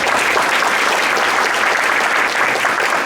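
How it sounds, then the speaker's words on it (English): A crowd applauds steadily, dense clapping filling the whole stretch at a loud, even level with no pauses. "So how about a round of applause for all of them?"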